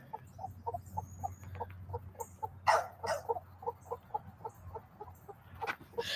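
Buff Orpington hens cluck in a steady run of short, evenly spaced calls at close range, with a louder squawk partway through and a low hum underneath.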